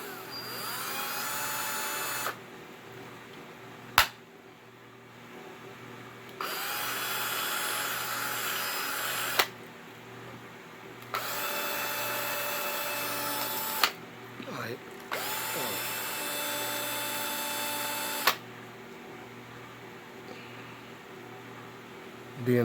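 A power drill boring into a Kicker Comp 12 car subwoofer (43CWR124) during a rebuild, whining in several separate bursts of a few seconds each, with quiet gaps and sharp clicks between runs.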